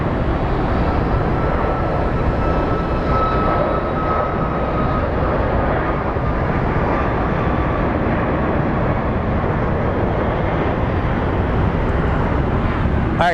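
An airplane lands at Sky Harbor International Airport in Phoenix, a loud continuous engine roar and rushing rumble that holds steady throughout.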